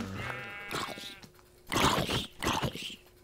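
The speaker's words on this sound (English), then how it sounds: "sheep." Sheep bleating in the video game Minecraft, a few wavering, nasal bleats close up, the later ones louder and harsher, with no talking over them.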